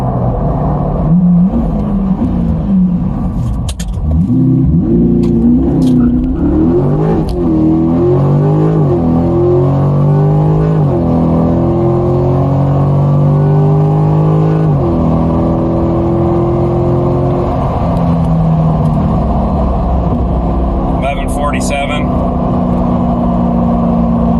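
A 2023 Corvette C8 Stingray on street tires pulls hard in a stop-and-go acceleration run, its engine note climbing through repeated upshifts, loud and close from inside the cabin, with a brief voice near the end.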